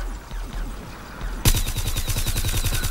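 Rapid bursts of weapon fire from the shooter game Plants vs Zombies: Garden Warfare start abruptly partway through and carry on loud and steady after a quieter stretch of game sounds.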